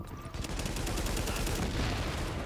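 Shotgun fire rings out during a video game firefight at Grand Central Station, with dense, continuous blasts and rattling gunfire filling the whole moment, loud and close, with no speech over it.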